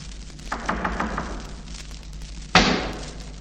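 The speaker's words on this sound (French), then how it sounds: "ses sœurs heurtèrent à la porte" Sisters knock on a door in a Cinderella story record, several light raps followed by a single louder thump, heard over a steady low hum.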